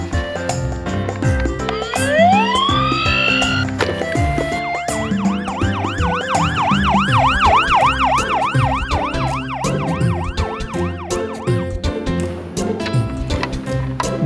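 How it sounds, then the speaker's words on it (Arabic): An ambulance siren sweeps up once, then switches to a fast, repeating yelp that cycles for several seconds, loud and close over background rumble. "أمبولانس سيارة إسعاف."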